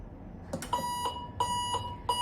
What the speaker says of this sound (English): We can see it is alarming and showing error code E01 on the display because the electric current is not completed.